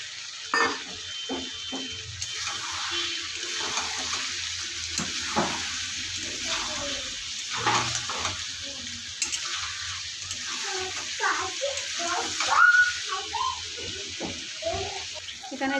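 Country chicken curry sizzles in a pan as fried potatoes go in and get stirred, a steady, close frying hiss with scraping and clattering, and no talk.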